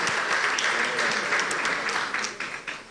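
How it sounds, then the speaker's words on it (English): An audience at an International Breweries event claps together in a brief, fairly loud burst of applause that thins toward the end. "Please give yourselves a round of applause"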